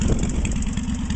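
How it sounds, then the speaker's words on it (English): A custom Yamaha XS650 motorcycle with a handbuilt permanent magnet alternator and no battery runs steadily, its engine idling with a loud, close, even throbbing pulse. "There's the Hugh's HandBuilt permanent magnet alternator firing up your custom XS650."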